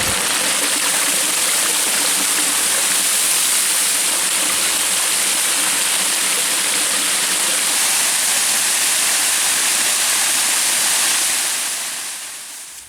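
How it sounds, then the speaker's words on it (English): A waterfall on a spring backpacking trail in Oil Creek State Park roars steadily and loudly, a continuous broadband rush of falling water close by that fades slightly at the very end. "Now we're coming up on our first waterfall."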